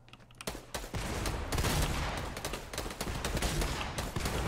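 Fortnite gunfire: dense, loud rattling bursts of shots from a gun that run almost without a break, with crackling impacts mixed in.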